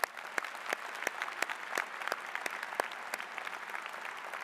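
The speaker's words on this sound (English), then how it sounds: "Let's give them all a round of applause." Sustained applause from a university graduation audience honouring student athletes at a commencement ceremony, a dense steady patter of many hands clapping with no talk over it.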